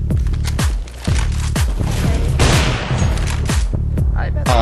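Gunfire in Counter-Strike: Global Offensive on the Office map, a rapid series of sharp, loud shots in bursts and single cracks with a brief lull near the start, under a busy game mix with a faint metallic tail at the end.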